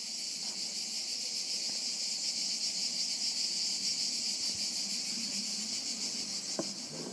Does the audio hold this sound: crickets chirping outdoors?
yes